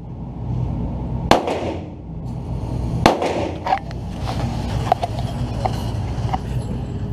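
Revolver shots fired single action outdoors: two loud, sharp cracks a couple of seconds apart stand out, followed by fainter pops and clicks over a steady background hum.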